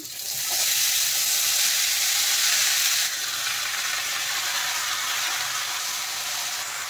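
A strong sizzle as chopped bottle gourd and potatoes hit hot oil, bright crackling hiss that settles slightly after a few seconds, close and continuous.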